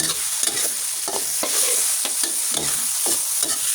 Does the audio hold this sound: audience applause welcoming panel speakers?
no